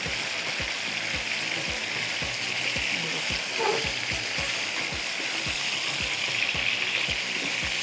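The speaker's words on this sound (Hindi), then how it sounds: "मछली भी आ गई है फ्राई होने पर" Fish fries in hot oil with a steady, close sizzle and regular soft clicks or taps running through it, with no talking.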